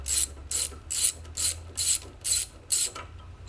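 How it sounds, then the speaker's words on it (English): Ratchet wrench loosening the corner bolts on a high-pressure fuel pump, heard as seven evenly spaced bursts of clicking, close and alone with no talk. "So I'm gonna remove the two top corner bolts,"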